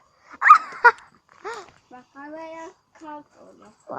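A chained dog barks and yelps up close in a few sharp bursts, with whining, tonal cries between them, in short irregular outbursts over a quiet background.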